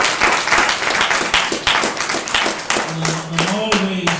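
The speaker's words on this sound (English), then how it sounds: "another round of applause" Audience applause for a Nation of Islam brother at a Denver speaking event, a dense steady wash of many hands clapping throughout, with a faint tonal hum rising near the end.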